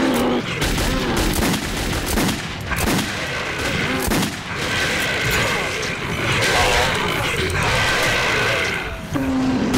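Rapid bursts of gunfire fill a tense firefight in the video game Metro 2033, loud and dense throughout with overlapping shots and occasional heavier blasts, while voices shout underneath.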